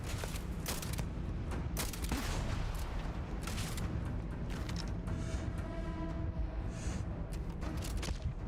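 Sniper fire and other gunshots crack repeatedly through a dense, continuous battle din in Starfield's Shattered Space, loud and layered with booming impacts.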